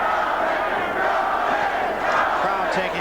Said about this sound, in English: Crowd taking up a chant, Tony, Tony.